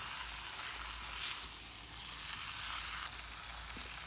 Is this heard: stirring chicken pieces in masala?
yes